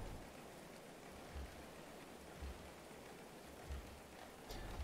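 Steady rain falls in the medieval colony-building game Going Medieval, a soft, even hiss of drops with a few brief low thumps standing out over the wash, no talk.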